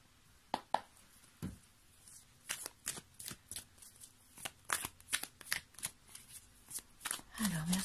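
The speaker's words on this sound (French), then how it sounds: "on va prendre les cartes oracle « Je suis à ma place »" Oracle cards from a "Je suis à ma place" deck are shuffled by hand, giving a quiet, close series of irregular riffling flicks and soft snaps, with a voice speaking briefly near the end.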